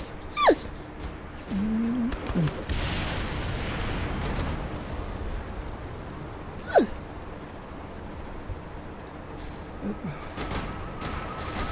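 A dog whimpers and yips in Saints Row 3 Remaster, with a few short high whines standing out over a steady low game background.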